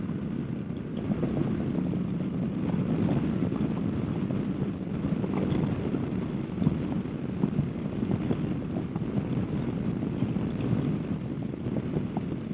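Steady, loud wind buffeting roars without pause while riding a 2018 Kawasaki Vaquero motorcycle, with a low engine hum mixed into the broad rushing noise.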